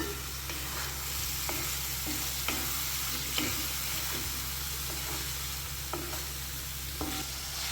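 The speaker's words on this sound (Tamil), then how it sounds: "பன்னீர் வந்து கொஞ்சம் சாஃப்ட் ஆகிற வரைக்கும் வதக்கிடலாம்" Paneer sautéing in masala in a pan, a low continuous sizzle with regular light taps and scrapes of a spoon stirring, steady and close.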